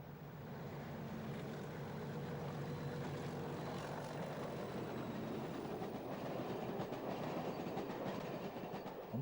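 A diesel-hauled passenger train climbs the steep Lickey incline in Britain, a continuous heavy rumble of engine and wheels holding steady throughout, with faint rhythmic rail clatter under it and no voices.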